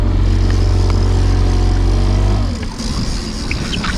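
A fishing boat's engine chugs steadily in gear at low speed while trolling for summer Chinook salmon, a loud, close, continuous low rumble that drops away abruptly near the end, leaving softer water and hull noise.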